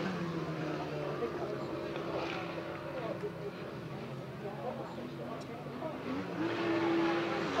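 Grasstrack race cars pull away together at the start of a race, their engines forming a steady, dense roar that swells near the end, with a commentator's voice over the top.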